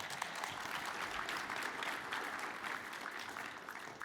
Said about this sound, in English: Give these wonderful elite women a round of applause.